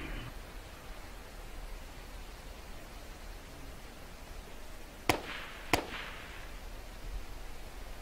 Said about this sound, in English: Who's shooting outside the base?